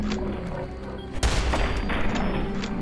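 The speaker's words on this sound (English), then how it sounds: "The lever-action rifle is a large-caliber weapon designed to kill even the biggest animals" A single heavy lever-action rifle shot in the video game Fallout 4 Far Harbor, a loud booming report partway through, set over continuous game background sound.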